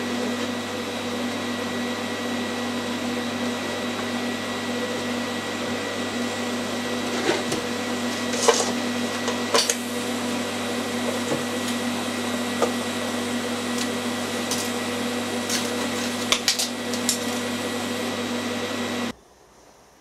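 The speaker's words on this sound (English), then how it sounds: "I'm just going to weld this cool, no preheat at all." A TIG welder brazing aluminium bronze on a lathe compound part gives a steady electrical hum and hiss for about nineteen seconds, with a few brief crackles, before the arc cuts off abruptly.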